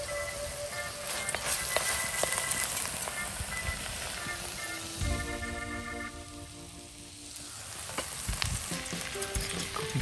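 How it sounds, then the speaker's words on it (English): Thai green curry bubbling and simmering over medium-high heat, with spoon stirring strokes scraping through it; a steady close sizzle runs throughout, loud and continuous, with no talking. "Simmering away nicely there on medium to high heat."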